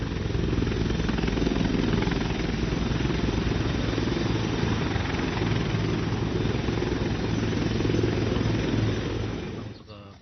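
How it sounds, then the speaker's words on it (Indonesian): A military helicopter arriving with reinforcement troops at Tarakan, North Kalimantan, gives a steady, loud rotor and engine roar that runs unbroken for about ten seconds and then falls away at the end. "Sementara itu, helikopter yang membawa pasukan bantuan juga tiba."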